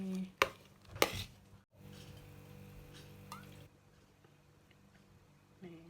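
A pestle strikes twice in a mortar while pounding Isan papaya salad with tamarind water, fermented fish and fish sauce. Two sharp, close thumps come early, then a low steady background hum.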